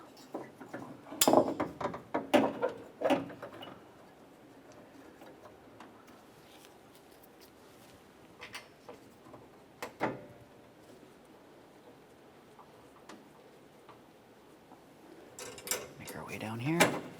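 Grille mounting bracket bolts being started and snugged up on a 1994-2002 Dodge Ram 2500, with sharp metallic clicks and ratchet ticks in bursts separated by quieter gaps.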